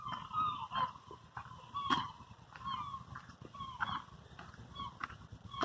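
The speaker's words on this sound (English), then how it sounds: "A lot of noisy seagulls around here, that's for sure." Several gulls cry repeatedly nearby, their sharp, wavering calls recurring in bursts over a steady outdoor background of wind and low rumble.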